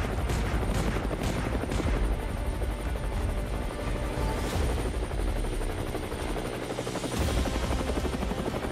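Helicopter in the Roblox game Brookhaven during a mint heist getaway, a loud continuous rotor thudding and engine drone with rapid rhythmic chops, close and steady throughout.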